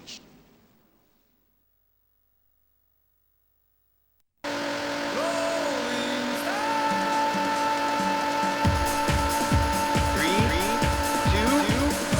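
Silence, then loud arcade-style race car engines from the Daytona USA video game on Sega Saturn and Dreamcast roar steadily with rising revving tones and squealing tires, busy and electronic.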